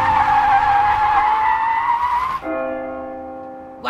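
A car engine revs hard under full throttle as the tires skid and squeal, a loud continuous screech that stays close and strong for over two seconds and then drops to a steadier, tonal engine whine.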